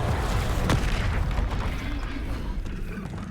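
A Confringo spell explosion in the Hogwarts Legacy video game lands as a sharp blast near the start, followed by a rumbling, booming tail amid continuous game noise.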